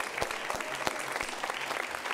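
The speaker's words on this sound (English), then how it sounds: "Give yourselves a round of applause for coming out tonight." Audience applause at a holiday show, a dense patter of many hands clapping close by, steady and sustained without voices.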